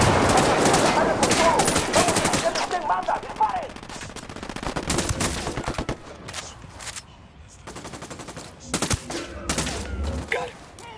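Sustained automatic gunfire in the tactical shooter Ghost Recon Wildlands, loud and dense bursts of rapid shots throughout with brief pauses, voices talking over the combat.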